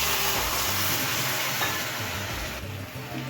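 Fish curry masala (boal fish jhal) being stirred in a pan after about a cup of warm water is added, giving a steady close sizzle and scraping stir with no voices.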